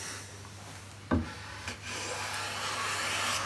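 A hand plane taking a fine shaving from coarse larch softwood clamped in a vice: one sharp rasping stroke, then a softer, shorter one, close and clear over a steady low workshop hum.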